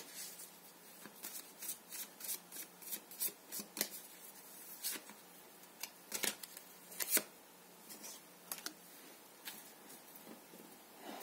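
Tarot cards being shuffled by hand, a run of soft riffling bursts and crisp flicks at close range, fairly quiet with no voices.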